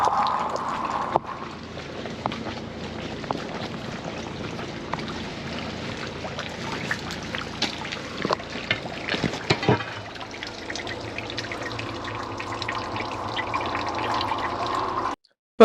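Heavy floodwater from a rainstorm pours and trickles through a school's drainage system, a steady close rush of running water with splashy bursts that eases into a lower, calmer flow near the end.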